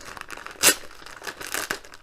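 A plastic bag holding a craft canvas is opened, its thin plastic crinkling and rustling up close with a sharper tearing burst partway through.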